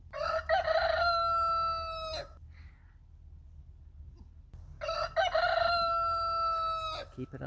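Two loud rooster crows, close by, separated by a few seconds of quiet with faint background noise.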